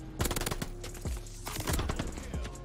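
An MP40 submachine gun in Call of Duty Vanguard fires rapid automatic bursts, a dense, loud stream of sharp shots with brief gaps, close to the listener.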